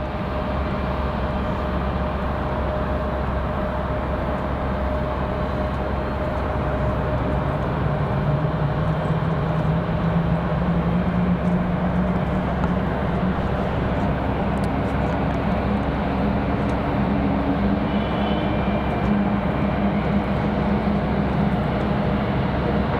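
Copa Airlines Boeing 737 Max 9 airliner touching down on the runway at Raleigh-Durham International, a steady, loud broadband jet roar that holds throughout with a slowly sliding engine tone.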